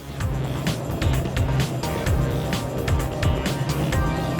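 Airship RIBS 330 rigid inflatable boat with powerful engines, a loud steady motor roar with rushing water and wind buffeting as the hull accelerates, continuous and close throughout.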